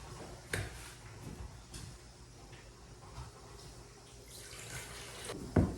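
White vinegar and water pour into a pot for canning vegetables, a soft continuous trickle and splash with a few louder knocks and clinks nearby.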